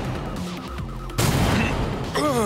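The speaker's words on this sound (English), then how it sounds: "Hearing an explosion!" A sudden loud explosion in a shooter video game bursts in after quieter moments of ambient sound and is followed by sustained rumbling and bursts of gunfire.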